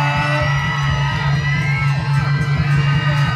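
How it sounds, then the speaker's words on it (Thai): Supporters whoop and yell for a contestant named Ryan, a loud, sustained crowd roar with shouts layered over a steady low hum. "ขอเสียงกองเชียร์ของน้องไรอัน"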